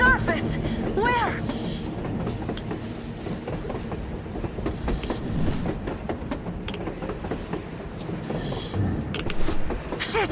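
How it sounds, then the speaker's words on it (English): A train rolling across the surface in the video game Metro Exodus, heard as a steady rumbling clatter of rail cars with squealing wheel tones, moderately loud under game effects and occasional voices. "A train! A damn train on the surface!"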